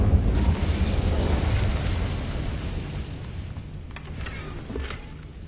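An Incendio fire spell is cast in the video game Hogwarts Legacy, giving a loud roaring, crackling burst that slowly fades, followed by a few faint ticks and pops.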